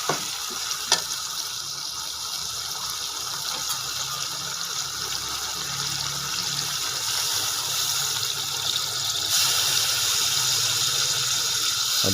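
Water poured into a pan of frying meat and spice mix for saag gosht, giving a steady sizzle with watery hiss that swells slightly toward the end, no voices.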